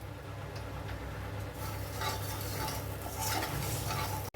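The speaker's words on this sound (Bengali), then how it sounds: "ওই কড়াইতেই আবার অল্প সর্ষের তেল দিয়ে কচুগুলো ভেজে নেব।" Taro pieces fry in a little mustard oil in a wok, giving a steady, close sizzle with soft stirring and scraping throughout and a brief gap at the very end.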